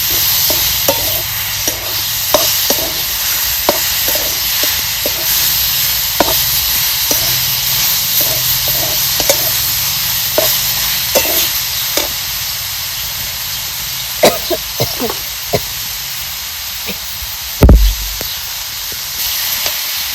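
Lemon pickle being stirred with salt in a pan, a spoon scraping and clinking in an uneven rhythm over a steady sizzle, with one sharper knock near the end.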